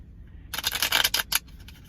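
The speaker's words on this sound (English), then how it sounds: "I'm not feeling like we're done shuffling here" A brief, crisp flurry of papery riffling and flicking as tarot cards are shuffled, close by and quick, lasting about a second against near silence.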